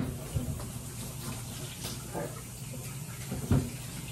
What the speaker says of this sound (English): And I've washed my hands already